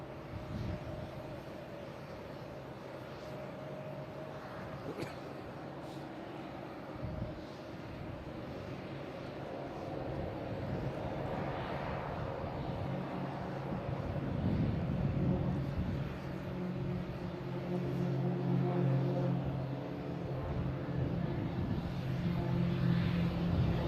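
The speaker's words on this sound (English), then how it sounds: "ITA taking off on 22 left." A passenger airplane takes off from runway 22 Left at Boston Logan International Airport, its engine roar rising steadily from a distant rumble to a louder, fuller drone with whining tones, heard alone.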